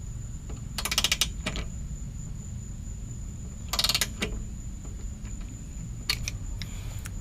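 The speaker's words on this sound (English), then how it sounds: "So I figure that's important enough to use a actual torque wrench on" Torque wrench tightening running board bolts into stainless steel tubes on a Ford F-150, giving three short bursts of rapid ratcheting clicks separated by quiet pauses, close and crisp.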